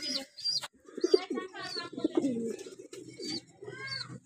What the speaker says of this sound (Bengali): এই যে এখানে দুইটা কবুতর আছে।